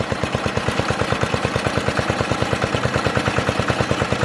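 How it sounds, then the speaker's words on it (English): A lawn mower engine, just jump-started with a Stanley FatMax, chugs steadily with a fast, even rhythmic pulse, running loud and close with no voices over it. "Boost this lawnmower off perfect"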